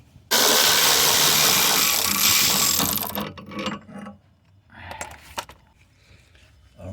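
A power ratchet spins off 14mm bolts from the driveshaft center support bracket on a GMC Acadia 3.6, with one long, loud whirring burst followed by two shorter, quieter bursts.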